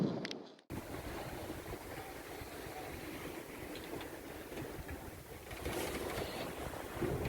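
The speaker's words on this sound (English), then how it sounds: "It's quite windy." Wind blows in a steady, broad rush around an empty castle site, a continuous outdoor roar that swells slightly near the end after an abrupt start.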